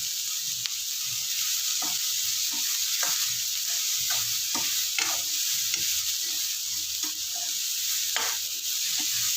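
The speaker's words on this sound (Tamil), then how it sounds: "கொஞ்சம் வெங்காயம் ரொம்ப வதங்க வேண்டாம், கொஞ்சம் கலர் மாறட்டும், வெங்காயம் வதங்கட்டும்" Onions sautéing in oil with table salt give a continuous close sizzle, broken by repeated light clicks and scrapes of stirring spread evenly throughout.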